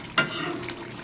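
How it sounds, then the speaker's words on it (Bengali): Chicken meat stir-fried in a pan as its released water cooks off, with a single sharp scrape of a spatula near the start over a steady low sizzle that carries on alone. "এই জলটা শুকানো পর্যন্ত আমি কষাতে থাকবো, একদম পুরা শুকনা করে ফেলবো"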